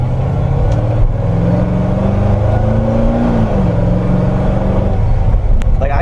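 A cammed, supercharged Chevrolet Corvette Z06 runs with a loud, steady exhaust drone up close, its pitch rising and dipping briefly as the engine revs, with no talk over it.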